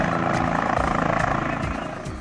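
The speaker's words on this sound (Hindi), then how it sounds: "धूल उड़ाता हुआ हेलीकॉप्टर मैदान में उतरा।" A helicopter sets down on an open village field, its rotor a loud, steady throbbing roar with fast rhythmic blade pulses that holds close and continuous throughout, then eases slightly at the end.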